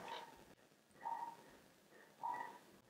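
A dog barks three short, high yips spaced about a second apart, sounding faint and somewhat distant.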